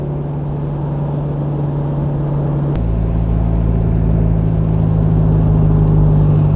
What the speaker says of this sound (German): Das ist eine Steigung, die für unseren Vierzylindermotor schon ein bisschen Arbeit bedeutet.